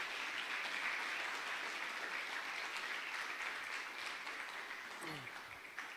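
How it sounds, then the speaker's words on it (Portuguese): A church congregation applauds together in sustained, dense clapping that fills the whole stretch at steady strength and eases slightly toward the end, with faint voices mixed in. "Você pode aplaudir o Senhor Jesus"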